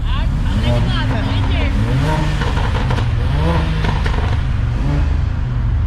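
Mercedes-AMG E63, C63 and A45 cars rev their exhausts at a gathering, with loud, repeated rising and falling engine sweeps that overlap one another, close by. Voices chatter in the background.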